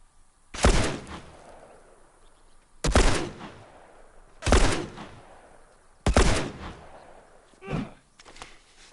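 Four loud, sharp gunshots in The Last of Us Part 2, evenly spaced about two seconds apart, each with a short decaying echo, followed by a fainter thump near the end.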